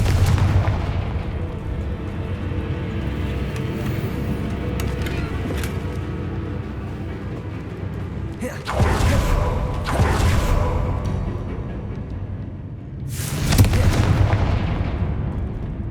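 Confringo blasting-curse explosions in Hogwarts Legacy, with heavy booming bursts, two big blasts standing out, over a dense, rumbling game soundscape.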